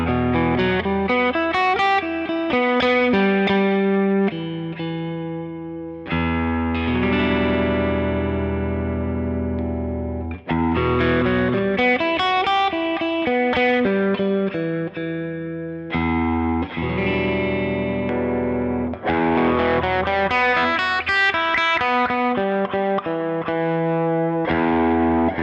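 A Valenti Nebula electric guitar is played through its pickup with a semi-clean tone, bright strummed chords and picked phrases ringing out in repeated bursts with short pauses, loud and close.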